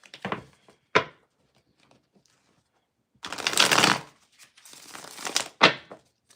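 Tarot cards riffle-shuffled in two main bursts, a quick crisp flutter followed by a longer rustling shuffle and a sharp tap, close and fairly quiet.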